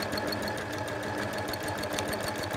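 Sewing machine free-motion quilting a granny-square quilt, stitching in the ditch around a flower motif: a steady, close, rapid needle chatter running continuously with no pauses and no talk.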